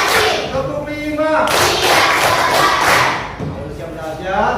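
A classroom of students claps together in counted rhythm, a dense wash of loud hand claps and thuds filling the room, with voices mixed in among the clapping.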